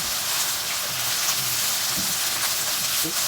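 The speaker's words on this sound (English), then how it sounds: "you can put in the green chilies, the ginger garlic, saute it" Green chilies and ginger garlic sauté in a hot pan for dry fish chutney, giving a steady bright sizzle and hiss throughout, with a faint voice underneath.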